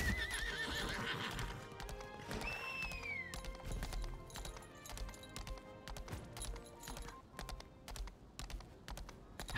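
Rhythmic hooves clip-clop steadily, with a horse whinny near the start, a game sound effect from Lost Ark playing over quiet background tones.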